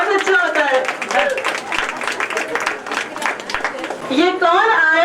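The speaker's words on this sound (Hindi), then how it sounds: "और मैं हमारी जोरदार तालियों के साथ" An audience applauding at a school trustees' event, a dense patter of many hands clapping in the middle, with an amplified voice speaking before and after.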